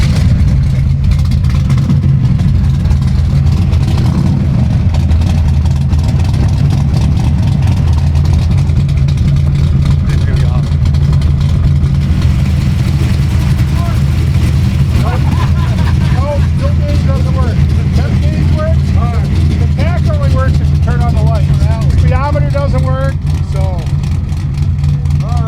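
A gasser drag car's big engine roars loud and close the whole time, a steady heavy rumble with rising revs toward the end, while people talk over it.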